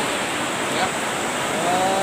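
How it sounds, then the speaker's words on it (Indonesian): The Cilutung River in Majalengka flows over long, elongated rocks, giving a steady broadband rush of water that stays even and close throughout. "Sekarang berada di aliran Sungai Cilutung ya."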